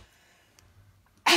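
After a moment of near silence with faint breaths, a single loud, sudden sneeze bursts out close by at the end.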